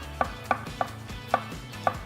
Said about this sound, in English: I'm going to slice up a clove of garlic